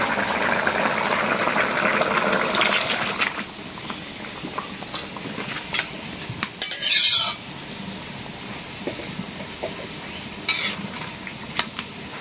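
Hilsa fish goes into a hot pan of oil, setting off a loud burst of boiling, sputtering sizzle that settles into steady frying with stirring scrapes, in a village kitchen.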